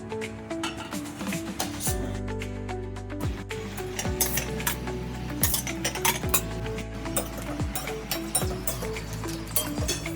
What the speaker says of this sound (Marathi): आता आपण कढईमध्ये मिरची भाजून घेऊया.